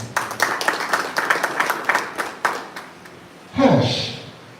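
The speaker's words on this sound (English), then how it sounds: "Well done, all the same. Applaud." A small audience claps for a few seconds, a rhythm of individual distinct claps that thins out and stops, followed by a voice speaking nearby.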